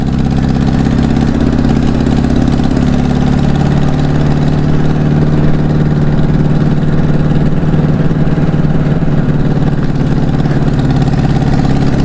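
A project motorcycle with a sport-bike riding position and an air leak on the right side runs loud and close, its engine droning steadily with a slight change in pitch as it shifts up through the gears.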